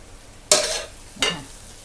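Rice with cha-om being stir-fried in a wok, two quick scraping tosses each followed by a short sizzle, close and clear with no talk.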